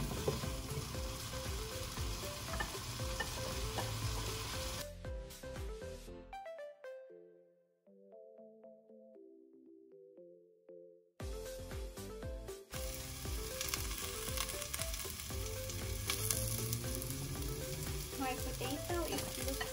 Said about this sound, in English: I am going to saute this for 3 minutes.